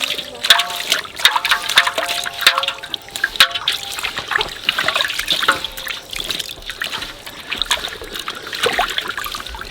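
Desi chicken pieces are rubbed and washed under running water, a steady trickle and splash with repeated wet rubbing and clattering in a kitchen.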